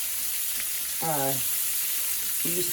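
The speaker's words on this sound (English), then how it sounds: "But I find if you just brown it, sear it just a little bit, it does really well." Sausage sears in a rice pot with a constant soft hiss of sizzling fat, broken by two brief voiced sounds.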